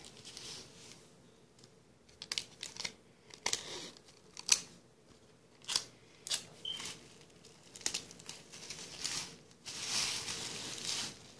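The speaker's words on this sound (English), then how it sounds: "You just take it and you tape it down in the back." Tape is pulled and pressed down onto a homemade mannequin head in a series of quiet, irregular crinkling rips and taps, close and mostly free of talk.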